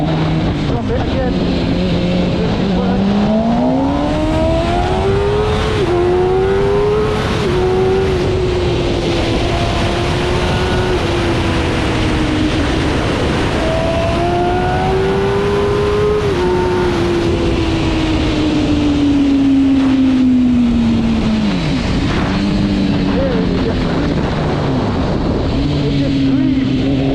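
A 2018 MV Agusta motorcycle accelerates hard on a motorway, its engine note climbing in pitch through several gear changes with brief dips between them. The sound is loud and close, set against steady rushing wind.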